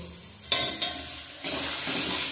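Khesari greens fry and sizzle in a pan, with sharp stirring scrapes at the start, then a steady close hiss of frying.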